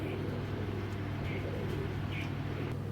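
Army breed pigeons coo softly a few times over a constant low background hum, the calls faint and spaced out.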